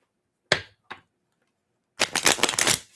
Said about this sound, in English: I'm gonna shuffle these cards over on another table